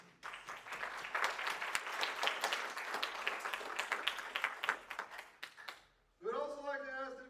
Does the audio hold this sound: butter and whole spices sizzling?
no